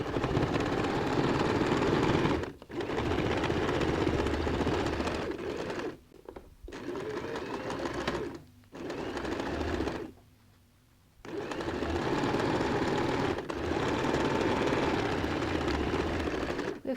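A sewing machine stitches a seam on a bag made from recycled jeans, running in several steady whirring bursts with short stops between them, close and clear.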